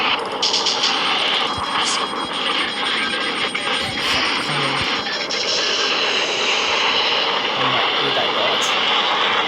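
Military war planes flying nearby in the COD Mobile video game give a loud, continuous engine roar that fills the whole stretch, broken by occasional sharp gunfire bursts.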